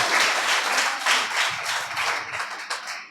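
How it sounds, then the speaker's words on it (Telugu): A church congregation claps together during a Sunday worship service, producing a dense, loud wash of hands that holds steady and then tapers off near the end. "చప్పట్లు కొట్టి కట్టుగా చెప్పండి."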